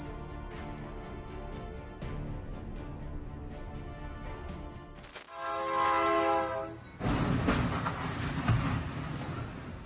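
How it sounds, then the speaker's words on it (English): A train horn blares over rumbling rail noise, then a loud crashing, grinding impact as the train collides with a truck and derails, followed by continued heavy rolling noise, in New Iberia, Louisiana. "This is the moment of a train derailment in New Iberia, Louisiana, after colliding with a truck."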